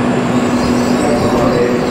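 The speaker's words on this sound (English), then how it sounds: "So this is our train arriving just now." A high-speed train pulls into a station in Japan, a steady close rumble and rail hiss with a faint sustained tone, holding at even loudness throughout.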